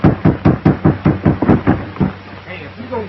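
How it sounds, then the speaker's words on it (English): Repeated knocking on a door, about ten firm raps in a steady rhythm for two seconds, close and loud, followed by a pause with faint background sound. "Knock again."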